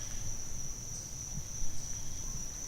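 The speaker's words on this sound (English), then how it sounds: "We hear some clicking crickets." Crickets chirp steadily outdoors among trees, a thin continuous high-pitched trill over a soft low murmur of wind in the leaves.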